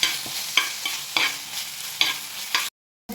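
Curry leaves and Chinese potato fry in a hot pan, with a constant sizzle and five or six sharp scraping stirs at regular intervals, then a sudden cut to silence.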